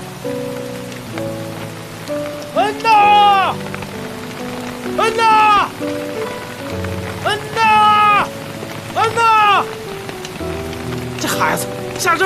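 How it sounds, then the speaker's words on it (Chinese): Heavy rain pours steadily in a Chinese drama scene where a child is being searched for. A constant wash of rainfall runs under loud, drawn-out voices calling out and background music. "孩子，下这么大雨跑哪儿去了？"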